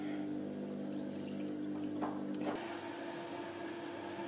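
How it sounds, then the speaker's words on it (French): Syrup drains and trickles from candied fruits in a kitchen, a soft wet pouring and squishing sound, close and steady with a slight splash midway, no voices. "je vais égoutter mes fruits confits"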